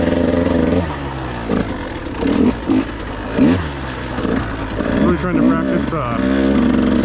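A KTM 150 XC W TPI two-stroke dirt bike ridden on single track, its engine revving and bogging in uneven bursts as the throttle opens and closes, loud and close.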